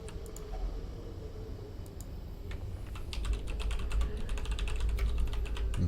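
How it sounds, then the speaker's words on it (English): Fingers type continuously on a new computer keyboard with rapid, crisp clicking keystrokes over a low background hum, growing slightly louder partway through. "I got this new keyboard today that is fucking amazing."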